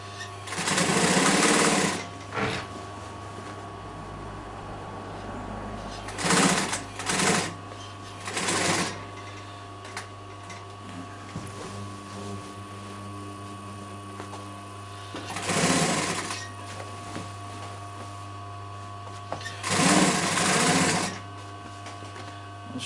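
Sewing machine stitching piping onto a chair cushion with a half-inch seam, running in several loud bursts of a few seconds each, separated by pauses over a steady low hum.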